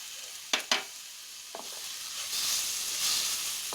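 Green chillies hit a pan for Kashmiri radish chutney with a couple of sharp clatters, then a steady bright sizzle of frying rises and holds, with light stirring scrapes.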